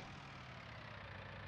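Tractor engine in Farming Simulator 19 idles with a steady low rumble, continuous and fairly quiet, with no talk over it.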